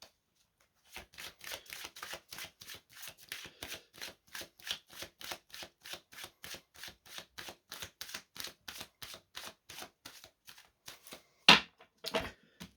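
Tarot cards being shuffled for a three-card draw: a long run of quick, even riffling taps and flicks, close and fairly quiet, ending with a couple of louder slaps as cards are set down.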